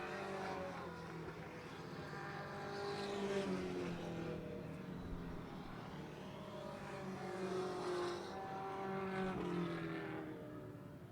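4-cylinder race cars lap an oval track on the final circuit as the checkered flag waits, a continuous distant engine roar that swells and fades as the cars pass, with no voices heard over it.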